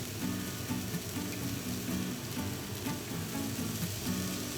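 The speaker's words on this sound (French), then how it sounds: "On va ajouter directement le bacon dans les oignons, tout ça pour les faire revenir aussi" Onions and bacon fry together in a pan for a tartiflette, a steady close sizzle and crackle with soft rhythmic stirring, no voices.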